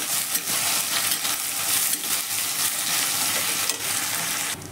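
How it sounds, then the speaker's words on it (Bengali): Two onions, sliced long, sizzle in hot oil in a pan for vegetable pulao, giving a continuous, close crackling fry with soft stirring and scraping sounds mixed in. "পেঁয়াজগুলোকে আমি হালকা ভেজে নেব।"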